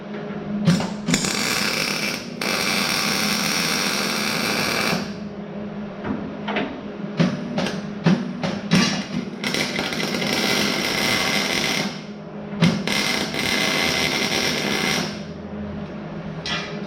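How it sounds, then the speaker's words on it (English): A bed is welded to a frame, with bursts of crackling, hissing arc welding lasting several seconds each, separated by short tack spurts and brief pauses, close and loud, no talking. "I'm going to weld that to this frame."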